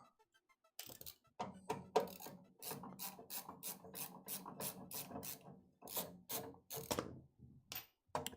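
Screws are undone on a 3D printer, making a close, quiet series of rasping, ratchet-like clicks. They come in rapid bursts separated by short pauses.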